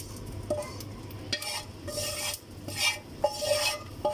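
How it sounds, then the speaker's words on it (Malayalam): Bitter gourd, ginger and green chilli go into a boiling tamarind gravy: bubbling sizzle swells in bursts alongside metal spoon stirs and light clinks on the pot, near and moderately loud, with no speech. "അപ്പോൾ നമ്മുടെ ഗ്രേവി തിളക്കിയാണ്. ഇഞ്ചിയും പച്ചമുളകും പിന്നെ കൈപ്പയ്ക്ക ഇതിലേക്ക് ആഡ് ചെയ്യാണ്."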